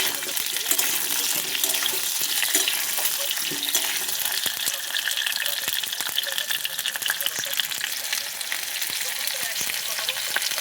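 Potatoes fry in a pan with a steady, bright sizzle, and a spatula occasionally scrapes and turns them; the hiss stays close and continuous throughout.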